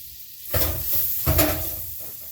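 Chopped garlic hits a hot buttered pan with two loud bursts of sizzling and stirring about a second apart, then a softer steady frying hiss between and after them.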